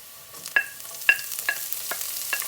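Onion, garlic leaves, spring onion and chopped green chili fry for a green pasta, giving a soft sizzle broken by a few distinct scraping stirs of a utensil.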